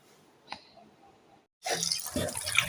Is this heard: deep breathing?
no